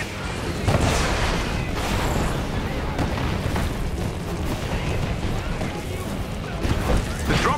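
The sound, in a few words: enemy artillery fire in the video game Marvel's Avengers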